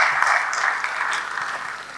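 An audience at a GPU award night claps in a dense, even wash of applause that holds steady and then fades slightly toward the end.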